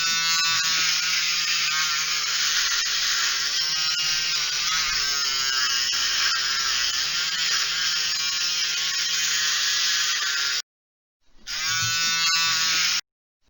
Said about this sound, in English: We'll begin by trimming the patient's hair in that area.